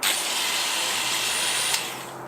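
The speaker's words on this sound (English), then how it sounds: "we will have some sort of rotary tool. Put your attachments in. That's a sanding attachment." A steady, high-pitched whine of a small rotary tool running continuously with a sanding bit, close by, easing off slightly at the end.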